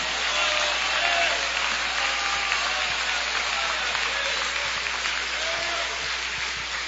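A church congregation claps hands together in continuous, even applause during a worship service, with a faint murmur of voices underneath.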